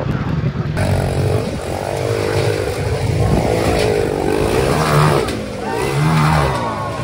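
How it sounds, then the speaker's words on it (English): Motorcycles at a MotoAmerica race produce a continuous loud engine roar, with several bikes revving and shifting pitch as they pass close by, all blending into a dense, steady drone. "So many bikes everywhere."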